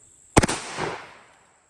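A Panzer M4 shotgun fires one loud, close blast of Fiocchi ammunition, a sharp crack that rolls into a short rumbling tail before fading to silence.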